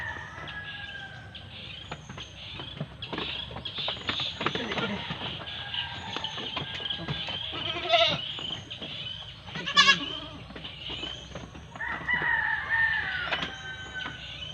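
A goat bleats intermittently among farm livestock, with roosters crowing and chickens clucking nearby; faint voices talk in the background, and a couple of louder calls stand out above the steady rural ambience.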